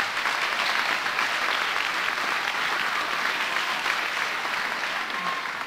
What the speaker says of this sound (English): we would like to give you a round of applause for the great work you do